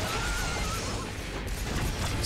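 A horse whinnies in Devil May Cry 3, a loud game neigh lasting about two seconds over a dense backdrop of game noise, with no talk.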